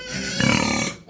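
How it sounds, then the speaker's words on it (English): Pigs at a city farm grunting and snorting close by, a dense run of low rough grunts swelling in the middle and fading at the end, with no talk over them. "They're gentle, they're lovely pigs."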